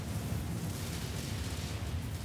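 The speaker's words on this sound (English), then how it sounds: "Now we are getting a lot of big explosions there" Big explosions in the video game MechWarrior 5, a continuous low rumbling blast of booms rolling into one another, dense and heavy for the whole stretch with no voices.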